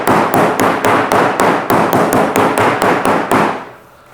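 A wooden plank hit hard and repeatedly to test its core, giving about fourteen loud, evenly spaced sharp impacts close by that stop abruptly, with no talk.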